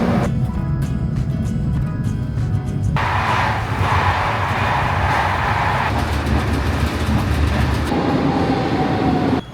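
A train bound for Lisbon rumbles and rolls along with a dense, steady roar, faint clicking and squealing wheel sounds over the tracks.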